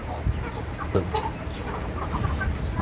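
Fayoumi, local desi and crossbreed chickens cluck and murmur close by in short, scattered calls over a low background hum, with no talking.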